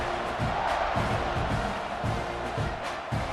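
Stadium crowd cheering in EA Sports College Football 26 during a kickoff, a dense, steady roar with rising whoops and surges throughout, no clear talk over it.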